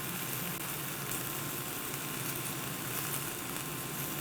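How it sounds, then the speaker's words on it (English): Steak sizzles steadily in a hot skillet, a dense even hiss of searing meat for Chinese black pepper steak, continuous and moderately quiet with no speech. "We just want to cook these for a couple of minutes on each side until they release from the skillet."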